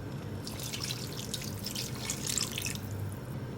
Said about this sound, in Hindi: 1 कप पानी डालूंगी इसमें